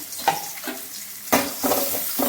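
Onions sizzle as they are sautéed in a pan after garlic, the base for a brinjal kara kuzhambu. A steady close frying hiss is broken by a few sharp stirring scrapes, with no voices.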